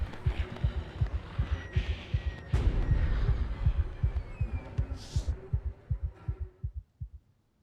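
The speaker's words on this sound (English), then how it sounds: "So was any of that heartbeat too loud?" A video game heartbeat thumps loud and steady in a deep, booming rhythm, slowing and fading out near the end over a faint background hum.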